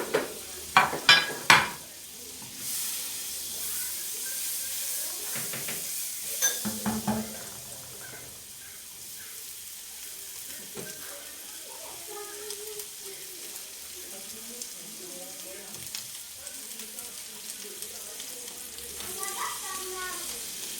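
Shredded chicken frying in butter in a pan gives a soft sizzle with stirring, scraping and clinks of utensils against the pan, plus a few sharper knocks early on, heard at close range.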